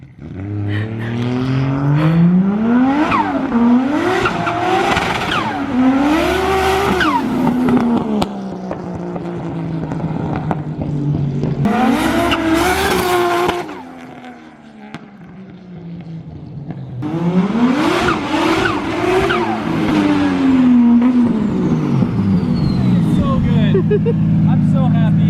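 A car with a 1.5JZ engine revs hard and roars past in a flyby, pitch climbing through repeated gear pulls, dropping away and building again, loud and close, with crowd chatter underneath.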